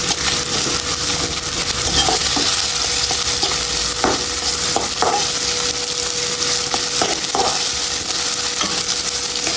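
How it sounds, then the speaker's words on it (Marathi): Green chillies and ginger-garlic paste frying in oil with tomato for masala moong rice, a loud continuous crackling sizzle with occasional spoon scrapes, close up and without voices. "दोन हिरव्या मिरच्या आहेत आणि एक चमचा अद्रक लसण्याची पेस्ट आहे हे तेलावर छान एकजीव करून घ्यायचं"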